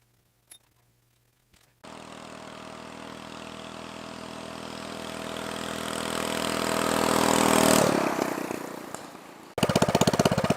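A homemade full-suspension mini bike's small engine starts up close by and drones steadily, then rises in pitch and loudness as it revs before cutting to a rougher, harsher running sound.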